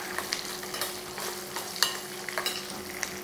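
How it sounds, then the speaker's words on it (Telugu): Curry leaves crackle and sizzle in hot oil for a tempering, with a steady close frying hiss punctuated by bursts of spattering and stirring, and no voices. "అలాగే కరివేపాకు, వేసి వేయించుకోవాలి."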